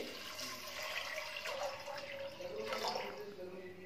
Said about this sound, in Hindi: अब इसमें 1 लीटर पानी डालेंगे